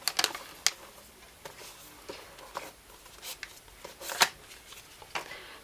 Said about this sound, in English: Sorry to all the people that don't like the plastic noise.